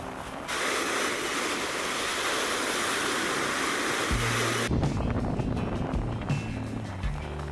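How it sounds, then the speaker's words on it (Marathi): Arabian Sea waves wash onto a beach at Ratnagiri during the monsoon, a steady broadband roar of surf and wind that holds loud throughout, with low rumbling swells surging near the end. "या बीचवरती समुद्राच्या लाटा आणि अरबी समुद्राचा आनंद घेण्यासाठी सी वॉक सुद्धा तयार करण्यात आलेला आहे"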